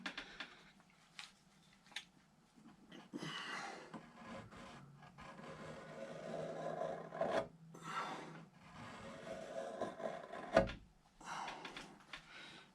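Hand carving tools rasp and scrape across wood while roughing out the flags on a large Bellamy-style eagle carving, with irregular strokes of varying loudness and a few sharper knocks, close by and without talk.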